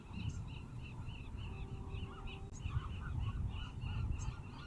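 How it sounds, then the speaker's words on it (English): A large flock of birds on a harbor breakwater along the California coast keeps up a dense chorus of overlapping honking calls, steady and fairly close, with no talking. "there are just a ton of birds out here"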